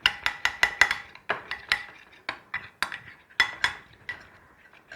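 A spoon clinks and scrapes against a bowl while homemade herbal cream ingredients are mixed, with a quick run of sharp taps at first, then slower, irregular clinks close by.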